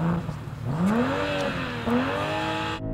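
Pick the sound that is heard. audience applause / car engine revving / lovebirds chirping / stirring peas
car engine revving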